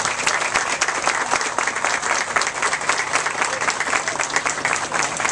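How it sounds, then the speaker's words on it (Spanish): Loud, dense applause from an audience welcoming a mayor at a public park inauguration in Los Mina Sur, steady clapping filling the whole stretch without letup. "Recibamos con un fuerte aplauso a nuestro alcalde"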